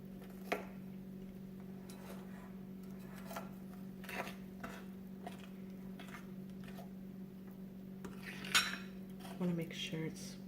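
A spoon stirring salted caramel into brownie batter in a bowl, soft scraping and occasional light clinks against the dish over a steady low hum, quiet and close.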